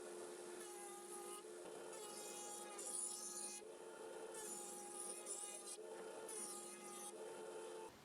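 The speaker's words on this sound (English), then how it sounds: "I'm going to go ahead and route these with a 3/8 inch round over." Router cutting a 3/8 inch round-over on wooden Adirondack chair legs, a continuous close whining drone with a grinding, rubbing edge that swells and eases as the cut passes along the wood.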